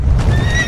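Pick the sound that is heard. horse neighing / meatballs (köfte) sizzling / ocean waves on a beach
horse neighing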